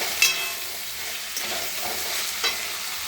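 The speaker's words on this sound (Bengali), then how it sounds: "এবার ওলটাকে দিয়ে দেবো। ভালো করে কষে নিতে হবে।" Chunks of elephant foot yam sauté in a pan with a continuous moderate sizzle, while two or three soft clinks of a stirring spoon break through it. No one talks.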